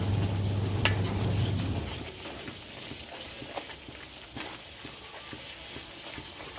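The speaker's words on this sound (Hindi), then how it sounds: "पूरा ऑयल छोड़ने तक इस मसाले को हमें भूनना है।" A masala of tomatoes and besan fries in an iron kadhai, making a steady low sizzle broken by soft scraping stirs and light clicks, with no voices.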